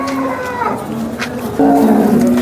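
A cow moos at a rural cattle market in Modnimb, Maharashtra, giving two drawn-out tonal lowing calls, the second louder and closer, with faint background noise.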